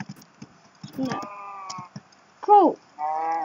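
A cow mooing in the video game Minecraft, two short, loud, tonal moos with another animal call before them, alone without talk over them.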